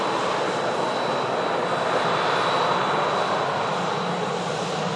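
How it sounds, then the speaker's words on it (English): A Pegasus Airlines A321neo airliner arriving from Istanbul produces a steady, loud, continuous engine roar with a faint high whine throughout, and no talking. "following that in from Istanbul is the Pegasus A321neo"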